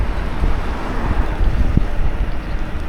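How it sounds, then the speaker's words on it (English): A dual-motor e-bike ridden at full throttle, its motors whining under heavy, steady wind rush across the microphone, loud and continuous for the whole stretch with no talking. "my e-bike, my motors are kind of loud compared to other people's videos I watch"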